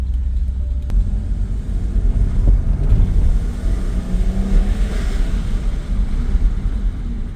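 An Alfa Romeo 166 Busso turbo V6 engine runs with a steady low rumble, with a faint valve ticking beneath the droning hum, close to the microphone.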